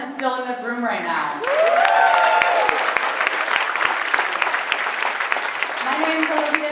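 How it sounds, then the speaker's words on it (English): Applause and cheering break out at an outdoor peace rally in Washington, D.C., a steady crowd clatter with a few sharp claps, while amplified voices carry over the start and end. "Let's just give a round of applause for everyone that's still in this room right now"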